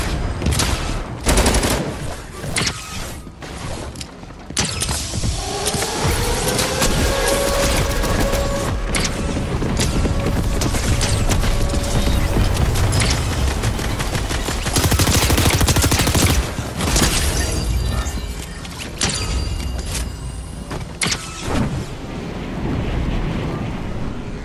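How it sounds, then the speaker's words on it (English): Repeated airstrike blasts and gunfire-like bursts from Roblox BedWars gameplay, loud and dense across the whole stretch, with overlapping booms, crackle and a few tonal effect sweeps. "And now, let's enjoy some airstrike."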